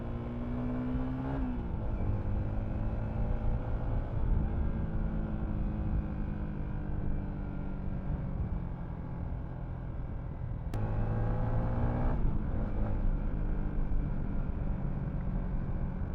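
A Yamaha Sniper 155R motorcycle engine drones steadily as it rides along a long road, its pitch rising and dropping with each gear change, with continuous road noise and no talking.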